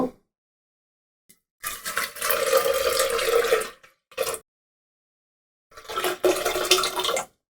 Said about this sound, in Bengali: একদম পরিষ্কার পানি না আসা পর্যন্ত এটাকে ভালোভাবে ধুয়ে নিতে হবে